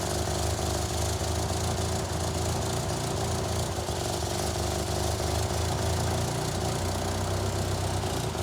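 A 1963 Austin-Healey Sprite engine with SU carburettors runs rough and slightly rich, idling steadily as it warms up, with a continuous close low rumble and no talk.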